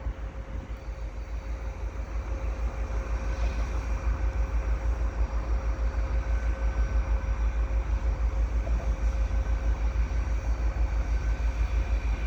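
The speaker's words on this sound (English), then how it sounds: "Here comes a westbound CN train here at the Dorval ramps." A westbound CN freight train rolls past at the Dorval ramps, a steady loud rumble of wheels on rail with rhythmic clacking and a sustained horn-like tone, holding close and even for the whole stretch.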